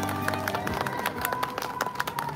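Rally audience at a union labor protest rally breaks into sustained clapping and cheering, a dense continuous wash of many hands close by with scattered voices mixed in.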